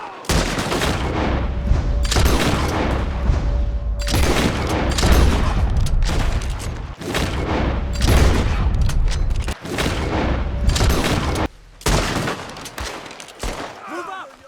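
Gunfire in a Red Dead Redemption 2 shootout, with an enemy firing from a tower: loud, rapid volleys of rifle and pistol shots crackle in dense bursts, broken by brief pauses.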